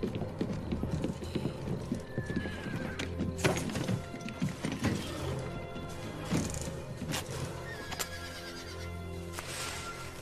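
Horses clip-clop along a street in a Western film scene, a steady run of hoof beats with a horse neighing, set against busy background noise and no talk.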